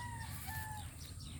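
A prized breeding chicken, a rooster kept for breeding rather than fighting, gives faint, brief clucking calls at a distance over a steady background hum.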